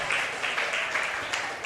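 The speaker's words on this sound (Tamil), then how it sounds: "நல்ல ஒரு கைத்தட்டு கொடுங்க ஆண்டவருக்கு." A church congregation applauding in praise, a dense run of clapping with rhythmic bursts that carries on steadily at moderate loudness.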